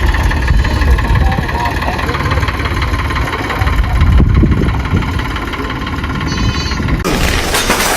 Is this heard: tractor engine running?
yes